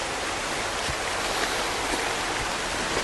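Water gushes from a broken water pipe at a forest edge as a steady, continuous rushing hiss, close and unbroken, with no voices.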